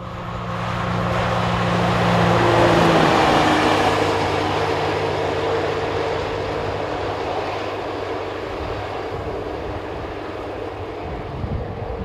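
A pair of ex-DB Class 211 and 212 diesel locomotives heading west on a maintenance train, their engine drone swelling as they approach, with steady tonal hums and broadband rumble that then fades gradually.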